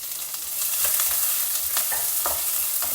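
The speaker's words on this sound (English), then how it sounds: "Saute all these for a few minutes till the onions become translucent" Sliced onions, a slit green chili, crushed ginger and curry leaves sauté in a pan for potato sagu, with a steady hissing sizzle and repeated stirring scrapes throughout.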